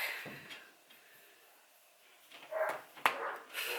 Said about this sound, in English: Lola's upstairs barking.